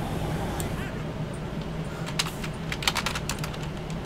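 Typing on a computer keyboard during a GTA 5 Online game session, faint at first, then a quick burst of sharp key clicks over a steady background hum.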